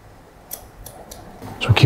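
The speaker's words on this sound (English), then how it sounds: "Pull it in, and then I'm gonna cut straight." Scissors snipping straight across a man's hair during a haircut, a few brief crisp clicks that grow louder and denser toward the end, close by against a quiet room.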